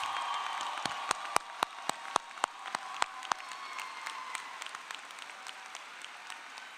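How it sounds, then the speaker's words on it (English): Applause at a graduate commencement ceremony, a fairly soft wash of clapping from a large crowd, with a handful of sharp, distinct nearby claps standing out early before the sound thins and fades. "So let's give our loved ones a round of applause."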